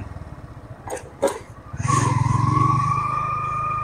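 A motorcycle engine hums while the bike is being parked on office grounds, a brief clatter first, then a steady close idling drone with a faint whine.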